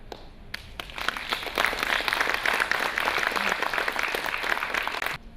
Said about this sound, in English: I wish we could all give applause to the success that we have achieved